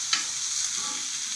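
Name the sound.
sautéing green chillies, mint, garlic for chutney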